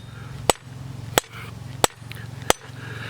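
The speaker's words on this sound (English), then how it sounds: "I'm just going to go and forge this a little bit more." Hammer blows on hot forging steel at a blacksmith's anvil, five sharp ringing strikes at a steady rhythm about two-thirds of a second apart, close and clear over a low humming forge or blower.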